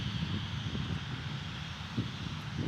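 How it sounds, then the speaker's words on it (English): Propeller airplane at Dallas Love Field, a steady broad engine drone with low rumble holding constant throughout, moderately loud and continuous with no talk over it. "Another prop. It's like our fourth today."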